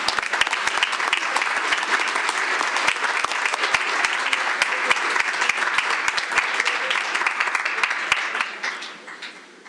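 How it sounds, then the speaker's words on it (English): Sustained applause from a school board meeting audience, dense clapping at steady volume for most of the stretch, then tapering off near the end. "Another round of applause."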